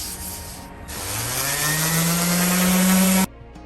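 A wooden side table's dark finish being sanded with 80-grit paper. A steady, loud power-sander whir rises in pitch as it spins up, holds against the wood with a gritty rubbing, then cuts off abruptly near the end.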